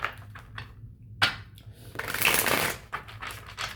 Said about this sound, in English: Let me shuffle this real good.